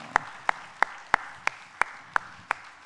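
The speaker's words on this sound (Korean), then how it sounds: "한 번 더 크게 박수 부탁드립니다" Claps during a Wednesday church worship service, in a steady rhythm of about eight sharp, evenly spaced strikes over a quiet room, with no voices.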